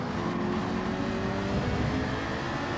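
A Ferrari race car in Gran Turismo 7 accelerates hard out of a corner, its engine droning steadily at high revs with a rising tone, heard clearly and without talk.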